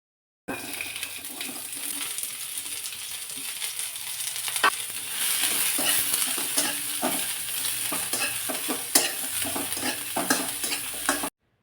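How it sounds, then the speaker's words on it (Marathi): Chopped onion frying in a little hot oil in a kadhai, with a loud steady sizzle close by. Repeated stirring scrapes and clicks from the spoon sit over the hiss. "अगदी थोडंसं 1 छोटा चमचा तेल मी कढईमध्ये गरम करायला ठेवलेलं आहे आणि त्यामध्ये साधारण 1 प्लेटभर चिरलेला कांदा घातला"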